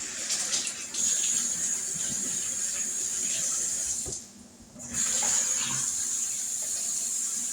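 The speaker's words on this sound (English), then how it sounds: "wash that sugar off my hand now." Tap water runs into a kitchen sink as brown sugar is washed off a hand, a steady hiss broken by a brief muffled dip where the hand passes under the stream.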